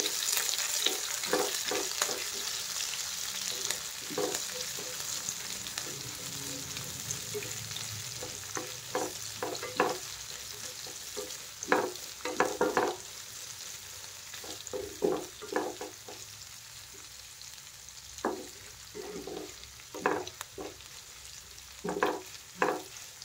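Onions and chillies with mustard seeds fry in a hot pan for poha, a steady soft sizzle broken by frequent crackling pops and stirring scrapes, close and with no voices.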